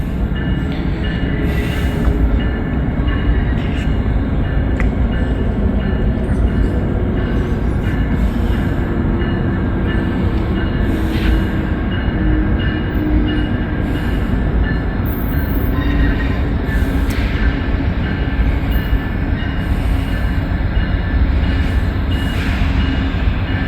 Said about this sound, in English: That's Amtrak. Here they come.